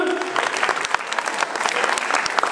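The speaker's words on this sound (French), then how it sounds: "On l'applaudit." A sports awards night crowd applauds a regional road and track cycling champion in the cadet category, a continuous, fairly loud rush of many clapping hands, steady throughout.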